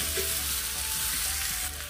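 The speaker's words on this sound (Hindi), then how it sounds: "तो ये तेल के साथ फ्राई हो जाएगा, भून जाएगा अच्छे से, इस तरीके से इसको हम चलाते रहेंगे।" Mango sabzi fries in oil with a steady, close hiss of sizzling, while faint stirring scrapes break through now and then and a low hum sits in the background. No one speaks.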